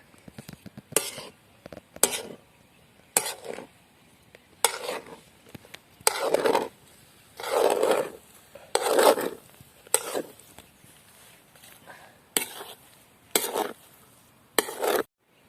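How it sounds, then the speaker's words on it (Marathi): Jaggery being stirred into lapshi in a pot, a series of short scraping strokes of a spoon against the pot bottom, close and repeated in irregular bursts with pauses between, no voices. "आता चांगला हलवून घ्यायचा आहे म्हणजे गूळ चांगला मिक्स होईल"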